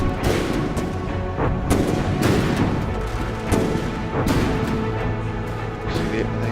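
Anti-aircraft tanks in a war game fire steady repeated booming shots up at a lone fighter plane, a loud continuous barrage with regular heavy blasts over a dense rumble.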